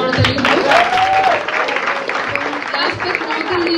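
An audience at a Pohela Falgun spring festival claps in a dense, steady wash of applause, with a brief whistle and voices mixed in.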